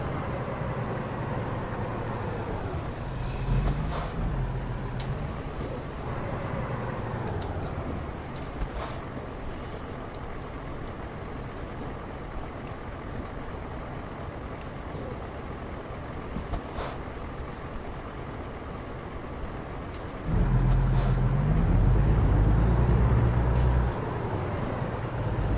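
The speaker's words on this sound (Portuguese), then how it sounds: "Você vê que ele é muito mais silencioso, né, do que aquele outro caminhão" A quiet truck drives along a San Francisco street, its engine a low, steady rumble with road and traffic noise, swelling louder near the end.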